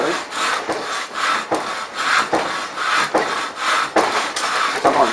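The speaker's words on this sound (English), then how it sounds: "I've been doing a bit of hand sawing lately." Steady back-and-forth strokes of a hand saw cutting through pallet wood, a regular rasping rhythm about twice a second, close and fairly loud.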